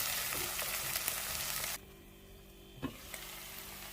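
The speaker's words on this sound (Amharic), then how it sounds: "ዘይት ሽንኩርቱን ለመጥበስ ያህል ብቻ ነው የማደርገው።" Onions fry in oil in a pan, a bright steady sizzle that cuts off abruptly partway through, leaving quiet with a brief clatter.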